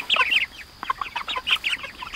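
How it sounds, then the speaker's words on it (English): Six-week-old Cornish cross broiler chickens cluck close by in a flock, a rapid chatter of short, overlapping calls with no talking. "These broiler Cornish cross chickens are 6 weeks old"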